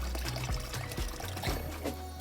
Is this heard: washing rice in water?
yes